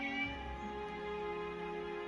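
Cat meowing in the video game Genshin Impact, a faint low mew at the start, nearly buried under steady background music and game ambience.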